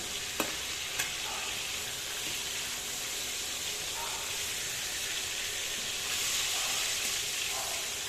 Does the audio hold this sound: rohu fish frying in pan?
yes